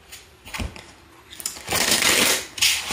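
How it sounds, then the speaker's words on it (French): Oracle cards drawn from a deck, with soft papery riffles and slides in short bursts, then a longer shuffle close up, moderately loud and without talk. "Allez, on va tirer quelques cartes de ce jeu."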